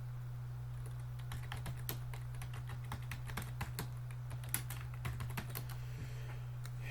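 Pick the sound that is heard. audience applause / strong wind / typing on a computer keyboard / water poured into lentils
typing on a computer keyboard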